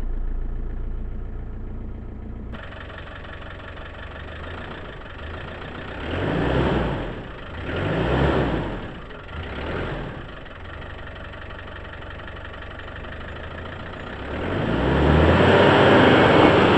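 A Land Rover Discovery 1 engine idling, found abandoned, with three throttle blips swelling and fading in the middle and a longer, louder rev toward the end, heard close up without talk.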